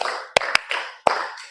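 A class clapping hands in a counted pattern, a few sharp distinct claps spaced irregularly over a background of children's voices in a classroom.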